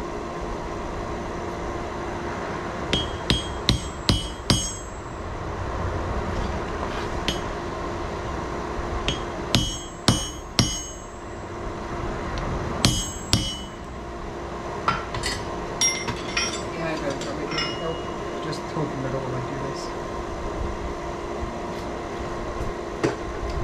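While forging a throwing axe, a railroad spike used as a drift is struck with a hammer. The sharp metallic ringing blows come in small clusters over a steady background hum, with no talk.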